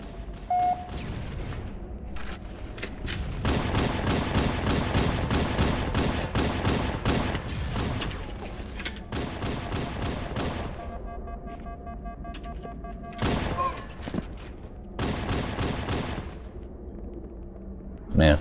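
Halo CE multiplayer gunfire, rapid automatic bursts and repeated shots in dense clusters with brief pauses, loud and close, with some quieter game sounds between volleys.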